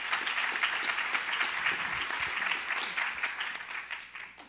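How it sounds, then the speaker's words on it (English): An audience at a panel discussion on philanthropy and female entrepreneurship applauds in a steady, dense burst of clapping that fades toward the end. "Let's give everyone a round of applause."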